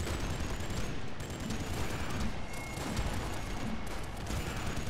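Constant rapid gunfire in the Nuclear Throne video game, a dense, steady clatter of shots and blasts with no pauses and no talking.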